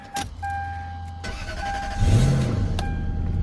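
A 2003 Lexus GS300 engine cranks briefly and fires up, settling into a steady idle hum after an earlier click and faint electronic chime.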